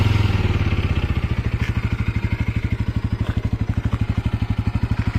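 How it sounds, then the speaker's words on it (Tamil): Engine of a 2024 Bajaj Pulsar NS200 motorcycle settling into a steady, throbbing idle with a fast even pulse, close and loud, with no talk. "ஸோ பைக் வந்து ஸ்டார்ட் பண்ணி காட்டுறேன் எப்படி இருக்குது அப்படின்ட்டு பாருங்கள்."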